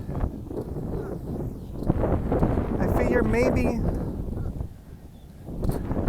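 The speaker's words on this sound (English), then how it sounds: "it's a lot more windy today than I thought it was, so I apologize for the wind." Someone talks outdoors while gusts of wind buffet the microphone, adding low rumbling bursts beneath his voice.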